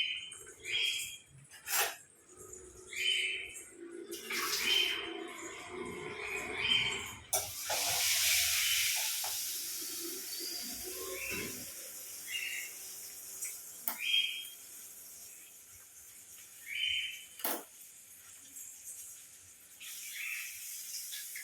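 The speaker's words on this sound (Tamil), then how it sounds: "அதனால் ஆஃப் பண்ணிவிட்டு இப்போ தயிரை நான் ஊற்ற போகிறேன்." Curd is poured into a hot tempering pan, setting off a loud burst of sizzling hiss midway. Scattered clinks and softer hissing follow in an otherwise quiet kitchen.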